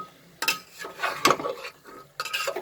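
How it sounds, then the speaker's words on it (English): A spoon stirs vegetables coated in masala in a pan for a vegetable tahari, giving a few separate scraping and clinking strokes against the metal with soft sizzling in between, close and fairly quiet. "stir it so that all the vegetables get coated with the masala properly"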